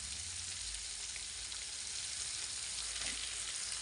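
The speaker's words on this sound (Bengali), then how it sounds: "ক্যাপসিকামগুলো ভালো করে ভাজা হয়ে যাওয়ার পর এর মধ্যে দিয়ে দিচ্ছি একটা বড় সাইজের পেঁয়াজ কুচি।" Chicken, capsicum and chopped onion sizzling in a pan on a gas stove for a pizza topping, a steady hiss of frying throughout at fairly low level, with no voices.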